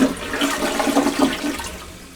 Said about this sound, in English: I do not like to see a toilet with the lid up, so I'm going to flush it just like this.